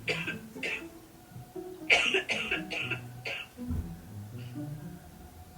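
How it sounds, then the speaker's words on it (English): Several short, harsh coughs from a nearby person come in separate bursts inside a room being prepared for painting, with a few quiet voices talking between them. "Coughing up a lung."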